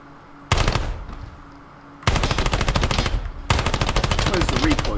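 MP5 submachine gun in the video game Ground Branch fires three rapid automatic bursts, sharp loud cracks in quick succession with short pauses between, a brief electronic tone faintly underneath.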